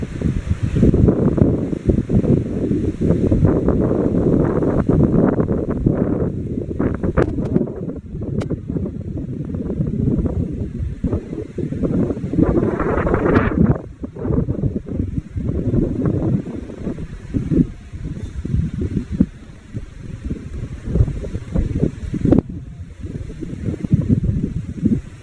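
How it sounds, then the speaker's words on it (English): Ocean waves and wind along the Kauai coast: a steady wash of surf with gusty wind buffeting the microphone, loud and continuous, fading slightly in the later stretch with occasional rustling. "I just want to show you this amazing view of the ocean."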